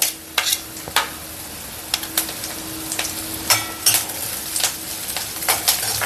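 Curry leaves dropped into chillies frying in oil and stirred with a metal spoon, bringing a brief crackling sizzle under repeated sharp scrapes and clinks against the pan, close and rhythmic.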